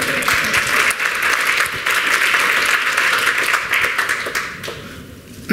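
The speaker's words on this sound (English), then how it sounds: "maybe we should applaud for that" Loud, full audience applause at the Shopify Unite 2017 developer conference, a thick continuous roar of clapping that holds steady and then starts to taper near the end.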